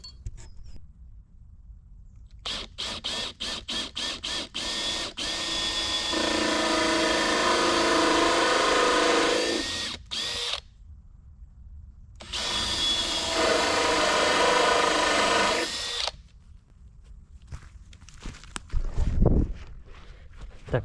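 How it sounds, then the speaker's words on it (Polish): A hole saw whirs through wood in two long sustained bursts, preceded by a series of short quick pulses, with clatter and a thump near the end. "otwór zrobię otwornicą"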